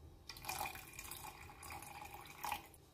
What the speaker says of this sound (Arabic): توا باش نزيدوا شوية ماء